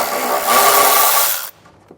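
Power tool running loud and steady on a 10 millimeter bolt under a 2023 Ford Edge, whirring for about a second and a half before stopping abruptly, with a faint knock afterward.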